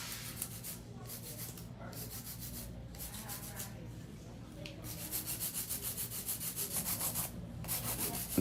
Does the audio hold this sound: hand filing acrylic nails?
yes